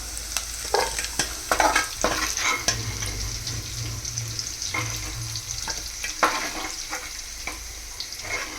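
Salted prawns frying in a pan for a ridge gourd curry, a steady loud sizzle close by, punctuated by repeated stirring clatters and scrapes of a spatula against the pan.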